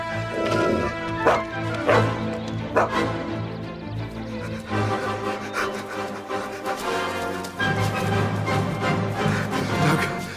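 Dog barks and yips sound over continuous music, with rubbing, wooden knocks and several sharp bursts spread through the scene from an animated story about rabbits, the dog being told to fetch a grazing sheep.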